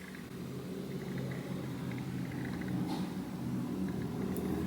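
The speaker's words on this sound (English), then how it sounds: "The garbage truck is here." A garbage truck outside on a quiet early morning, a low steady engine rumble heard faintly from indoors with a few soft clanks, continuous throughout.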